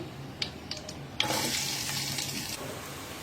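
Chopped onions dropped into hot mustard oil with a few bay leaves, breaking into a steady, loud close-up sizzle after a couple of faint clinks, then easing slightly toward the end.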